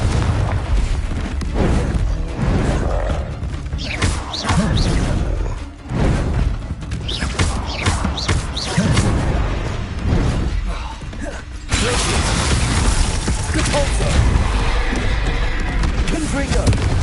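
Booming spell blasts and mechanical creaks from Hogwarts Legacy combat, with a Confringo fire spell exploding amid repeated thuds and pops, loud and continuous, under a voice calling out spell names.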